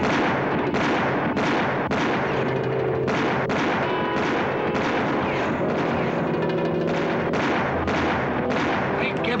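A gunfire shootout in a western TV drama: loud, repeated gunshots crack one after another in a dense, irregular volley, with heavy booming reports throughout.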